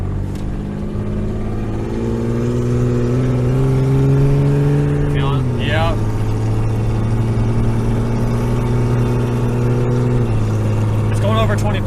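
A 1988 Jeep drives with a steady engine drone that climbs in pitch, then drops as it shifts gears, with another shift later. Loud cabin road noise throughout and a brief squeak partway.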